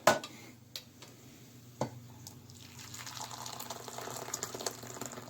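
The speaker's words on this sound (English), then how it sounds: "I'm going to go ahead and get that boiling water for these" Boiling water poured over powdered gelatin in a bowl, a few light drips and knocks at first, then a steady, growing splash of filling liquid, close and alone.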